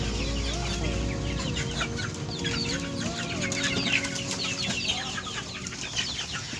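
Local desi chickens on a poultry farm cluck steadily and overlap in a busy flock, with occasional rising calls cutting through the constant farmyard chatter and no talk.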